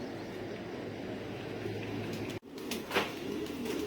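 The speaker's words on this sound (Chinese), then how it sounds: "这些鸽子放出来兴奋啊" Racing pigeons just released from their loft coo faintly at a distance. The soft calls sit over a steady outdoor background hum, with a brief rustle toward the end.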